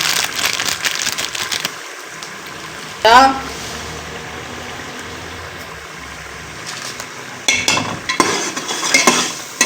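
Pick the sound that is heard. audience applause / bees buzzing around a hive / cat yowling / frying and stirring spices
frying and stirring spices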